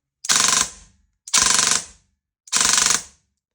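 A Specna Arms Dark Matter AEG airsoft gun, low-power variant, fires three loud, close full-auto bursts of rapid mechanical clatter, each under a second long and separated by short silences.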